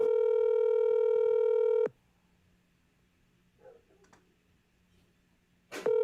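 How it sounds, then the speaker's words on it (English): A phone call rings out with a long steady ringback tone, then near silence with faint clicks, and the tone starts again at the end. "Pee Wee, answer the phone."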